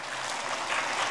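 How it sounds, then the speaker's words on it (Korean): Church congregation clapping in a Korean church, a short, dense burst of many hands applauding together at moderate volume. "이분들이 찬송을 불러야 박수를 치는구나"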